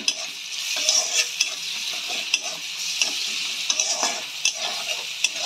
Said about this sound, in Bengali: ভালো করে মশলাটাকে কষাতে হবে।